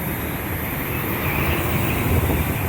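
Strong wind buffets a fire tower lookout cab with the window shut, a constant loud roar and rumble that swells slightly toward the end.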